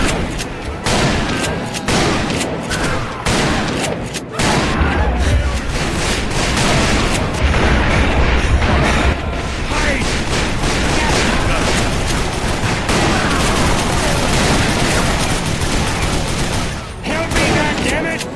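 A Gatling gun fires in the Call of Juarez: Bound in Blood Western shooter, with loud, dense, continuous rapid gunfire and blasts filling the whole stretch, and shouting voices mixed in.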